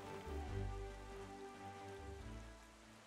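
Steady rain falls in Zelda: Wind Waker HD, a soft, continuous hiss of drops on surfaces, fairly quiet and unbroken, with no voices.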